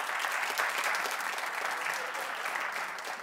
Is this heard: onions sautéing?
no